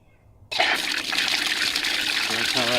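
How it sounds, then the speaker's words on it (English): A garden hose runs through a programmable sprinkler timer with rain delay. After half a second of near silence, water bursts on abruptly and becomes a loud, steady rushing hiss. "Okay, I'll turn the water on."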